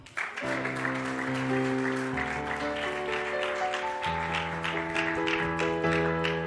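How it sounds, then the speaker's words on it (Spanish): A church congregation claps together in steady, sustained applause over sustained organ-like music chords, filling the room at a moderate level throughout. "Denle un aplauso al Señor."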